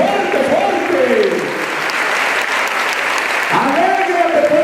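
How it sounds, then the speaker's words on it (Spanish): A church congregation applauds loudly and steadily in a dense, continuous wash of clapping, while a preacher's voice calls out over it at the start and again near the end. "Apláudale al Rey de la Gloria, al que merece todo el honor y toda la gloria, aleluya. Fuerte ese aplauso."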